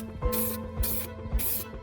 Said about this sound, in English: Spraying on a primer.